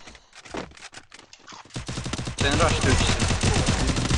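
Gunfire in the mobile battle royale game Free Fire, with scattered shots early on and then a dense, loud burst of rapid automatic fire in the last part.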